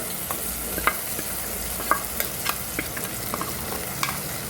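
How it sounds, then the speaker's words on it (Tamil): Ground masala paste and onions sizzling in oil in a pan for a Nagercoil-style fish curry, with a steady close fry hiss broken by repeated soft scrapes and clicks of stirring. "மசாலா வந்து பச்சை ஸ்மெல் போகுது வரைக்கும் இந்த எண்ணெயில் நல்லா வதக்கிடணும்."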